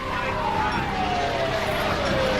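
Emergency vehicle siren during a riot, a single steady descending wail under dense crowd and traffic noise, moderately loud and continuous throughout.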